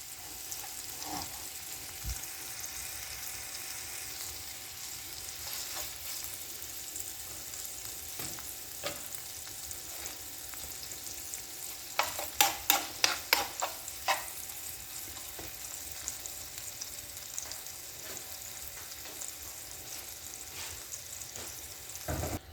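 Liver for an Alexandrian-style dish frying and being stirred in a pan, a steady soft sizzle throughout with a short burst of sharp scraping clicks from the stirring partway through; no voices.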